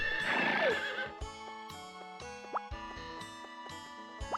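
A horse whinnies loudly at the start in a farming video game, followed by light chiming and plinking game tones with soft clip-clop hits.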